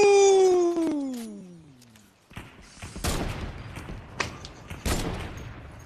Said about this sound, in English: I got my explosive gun, so I get him.